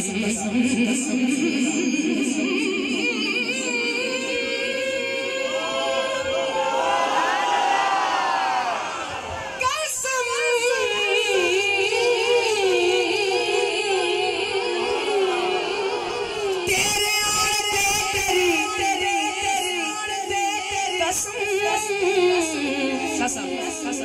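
A large crowd at a Muharram religious gathering chants together in unison, loud and sustained, with voices swelling in a rising surge midway before settling into steady, massed chanting.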